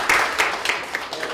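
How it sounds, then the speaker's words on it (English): Applause for a speaker at a youth violence prevention week event in Minneapolis: a short burst of scattered clapping from a small crowd, uneven and moderately close. "Can we please give her a round of applause?"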